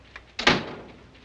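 A door in an old black-and-white film noir scene gives a single close, sharp knock or thud after a faint click, followed by a short fading room tail.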